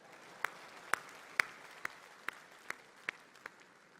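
An audience at a memorial gathering claps in a slow, even rhythm, about eight distinct claps spaced roughly half a second apart, faint and somewhat distant in a quiet room.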